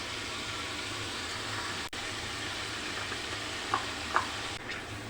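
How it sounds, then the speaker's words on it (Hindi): Garlic and ginger paste fries in oil in a karahi for chicken charsi, making a steady close sizzle with a few faint clinks throughout. "लहसुन अदरक के साथ ही भून लेंगे।"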